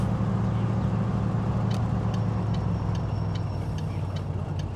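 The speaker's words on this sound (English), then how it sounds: "Got a truck coming." A truck approaches in the video game My Summer Car, heard as a steady, loud low engine drone with faint ticking clicks over it. No one talks.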